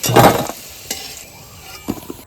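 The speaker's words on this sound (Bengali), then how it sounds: "আলুটা আমি লাল লাল করে ভেজে নিচ্ছি" Potatoes fry in oil for a Bengali vegetarian dish, a soft sizzle broken by a few stirring and scraping knocks of a utensil in the pan, fairly close, no talk.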